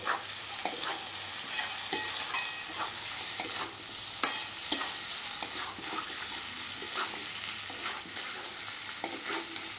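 Eggplant frying in a pan for a Bengali tamtum dish, a steady close sizzle broken by repeated scraping stirs of the spatula, no talking.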